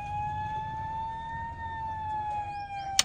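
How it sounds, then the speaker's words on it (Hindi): An Ahuja electronic hooter sounds its police and fire brigade siren tones: one loud, close, continuous wail that drifts slowly up and down in pitch, with no talking, ending on a sharp click. "इसमें दो साउंड आते हैं, एक फायर ब्रिगेड का और एक पुलिस का"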